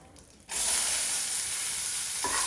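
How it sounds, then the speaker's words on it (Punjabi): Onions hit a hot pan for a vegetable poha and instantly break into a loud, steady sizzle that holds close and continuous, with a short softer moment before the onions go in. "ਥੋੜਾ ਜਿਹਾ ਸੌਟੇ ਕਰਾਂਗੇ ਇਹਨੂੰ ਬਹੁਤ ਜ਼ਿਆਦਾ ਨਹੀਂ ਭੁੰਨਦੇ"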